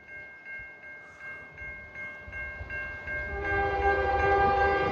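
A CN freight train sounds its horn at an activated railroad crossing, a series of sustained chord blasts, with the rumble of the approaching train building underneath and growing louder toward the end.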